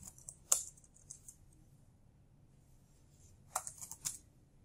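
A few sparse keystrokes tap on a computer keyboard, close and crisp, with a brief cluster near the end that includes pressing the Enter key, over quiet room tone.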